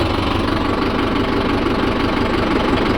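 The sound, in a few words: Mahindra Yuvo Tech+ 585 DI tractor engine running in third gear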